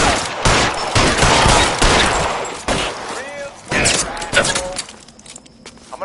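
Rapid gunfire fills a shootout in the L.A. Noire video game, with bursts of loud shots, some in quick automatic strings, broken by short pauses and shouted voices.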